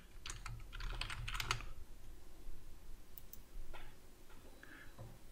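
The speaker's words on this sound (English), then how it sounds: "hit your Cortana or search icon and write system configuration." Keys clatter on a computer keyboard in two bursts, a dense flurry of typing followed by a pause and a few scattered keystrokes, close and fairly quiet over a faint low hum.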